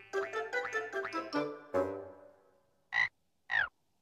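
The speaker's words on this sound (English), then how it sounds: "Oh, hello, little frog." A cartoon frog croaks in a quick rippling run of cartoony croaks, then a longer drawn-out croak, followed by two short separate croaks after a pause, loud and close.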